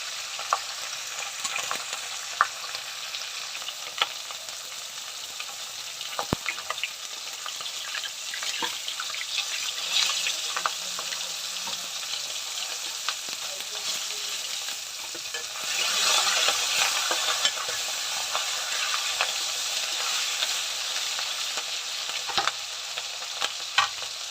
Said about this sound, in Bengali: মাথাটা একটু ভালো করে ভেজে নেব